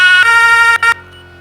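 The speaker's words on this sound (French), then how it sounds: "T'as tes sirènes." A video game police car siren wails loud and close in steady sustained tones, breaks off briefly, sounds again and then cuts out, leaving only a faint hum.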